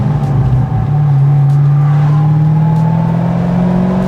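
A 2006 Chevrolet Corvette engine idles with a loud, steady low rumble that rises slightly in pitch as it revs, heard up close and alone for several seconds.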